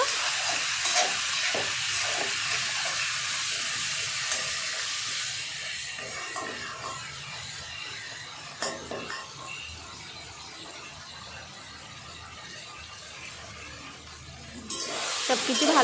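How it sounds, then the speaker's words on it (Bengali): Chopped tomatoes with salt being stirred in a cooking pan for dum aloo, a steady loud hiss of cooking with faint scraping stirs, continuous throughout with a brief louder burst near the end. "নুন সব কিছু ভালো করে নাড়াচাড়া করে নেব"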